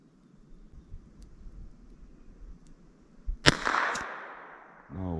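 A single .32 Long cartridge fires in a ballistic test. The report is sharp and loud, a quick second crack follows, and a decaying roll trails away after a stretch of quiet outdoor ambience.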